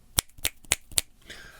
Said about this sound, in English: The first thing I do is I do a few snaps.